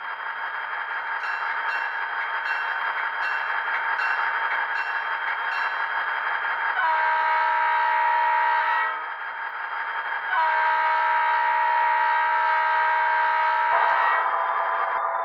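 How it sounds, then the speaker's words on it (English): An ESU LokSound-equipped SD40-2 model locomotive plays a steady clanging bell throughout, joined by two long sustained multi-chime horn blasts near the middle and end, loud and close with no talk. "Just a couple sounds, bell and horn, to get the point across of the differences between road names, road, or different versions of this SD40-2."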